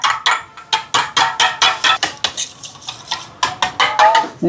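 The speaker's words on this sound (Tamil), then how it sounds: "மேலே முட்டை எடுத்துருக்கேன், கலந்து விடுவோம்." Eggs beaten in a bowl with a utensil, a brisk run of rapid metallic clinks and scrapes in an uneven rhythm with short pauses, loud and close with no talking.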